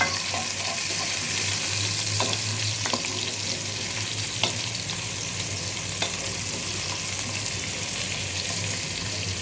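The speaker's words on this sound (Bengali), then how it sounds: "পেঁয়াজটা দিয়ে দিলাম।" Onions frying in a pan while khichuri is cooked: a continuous bright sizzle with occasional faint scrapes of stirring, steady and close, with no voices.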